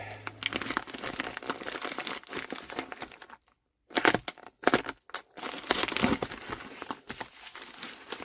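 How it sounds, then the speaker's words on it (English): Heavily taped cardboard delivery box holding model-airplane parts being torn open by hand, with sustained close crinkling, crackling and ripping of tape and cardboard, two brief pauses near the middle, then more bursts of tearing. "So we'll just rip it up."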